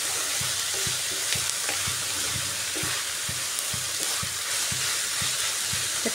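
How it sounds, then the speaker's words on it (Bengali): Onions fry in a pan with a continuous sizzle, and a utensil stirs them in a steady, repeated scraping rhythm, close and at moderate volume. "পেঁয়াজটাকে আমি ভালো করে ভেজে নিচ্ছি।"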